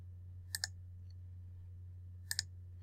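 A computer mouse clicks twice in quick succession, then pauses and clicks twice more. The clicks are faint and close, set against a steady low electrical hum.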